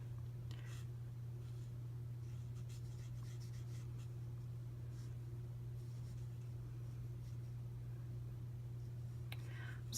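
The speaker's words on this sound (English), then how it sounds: "I'm going to use my Stampin' Blends to color them" Stampin' Blends alcohol markers color paper, starting with a light Daffodil Delight layer, making faint, continuous scratchy strokes over a steady low electrical hum, with a few soft taps near the end.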